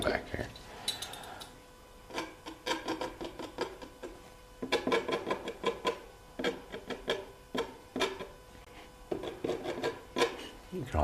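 Something scrapes a surface outdoors during a river walk, making repeated rasping, rubbing strokes in uneven bursts with brief pauses, close and moderately loud, while a voice speaks intermittently.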